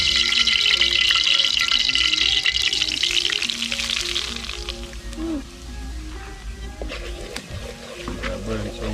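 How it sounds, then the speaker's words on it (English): Pork curry frying in a pan, a loud steady sizzle and crackle that dominates at first and then eases slightly, with scattered clatter and people talking. "The curry, I burn some curry, see?"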